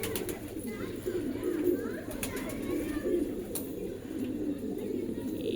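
Blue pigeons coo in low, soft, rolling murmurs, steady and close, with a few faint clicks and rustles in the background.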